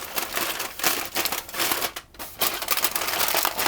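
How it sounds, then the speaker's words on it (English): Aluminium foil is crimped by hand around a lemon roly poly in a kitchen, giving close crinkling and crunching bursts in an uneven rhythm with a brief pause partway through. "I'm just going to crimp the foil together"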